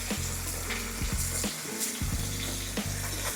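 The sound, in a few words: pork chops frying in hot grease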